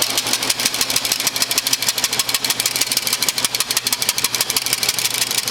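An oil and vinegar vinaigrette is whisked briskly in a bowl, giving a fast, steady rhythm of close, bright clicking and swishing strokes that carries on without a break and with no voices.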